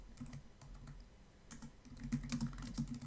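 Keyboard typing into a Tableau text box, a steady run of soft key clicks that pauses briefly mid-way and then returns faster and louder.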